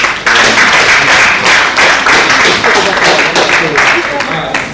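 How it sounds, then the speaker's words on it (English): A hall audience at an international academic conference bursts into sustained, loud clapping that fills the room, with some voices mixed into the applause. "Please, a round of applause."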